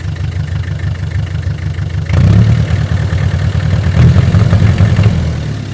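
A warmed-up Ch 4 8.5 diesel tractor engine runs steadily nearby with a loud, low, even chugging that rises slightly in intensity partway through, with no talking.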